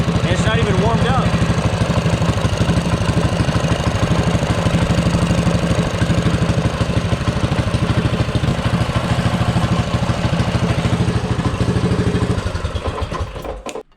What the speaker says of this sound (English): It idles nice and smooth now